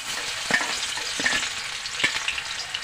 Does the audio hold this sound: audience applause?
no